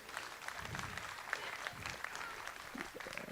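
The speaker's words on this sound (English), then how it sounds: "Let's give him a nice round of applause." Crowd at the Dunn County Fair swine show gives a young exhibitor a round of applause, a faint, steady patter of clapping heard from a distance, with speech mixed in.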